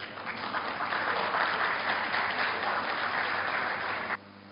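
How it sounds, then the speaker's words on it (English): A seated audience at an architects forum silver jubilee celebration applauds in a dense, steady, even wash of clapping, which then stops abruptly. "Let's give a big round of applause."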